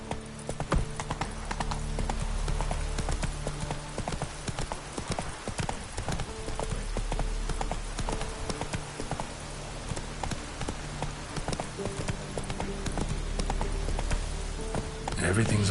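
Roach the horse galloping in The Witcher 3, fast rapid hoofbeats close and continuous for the whole stretch, over a low game ambience hum.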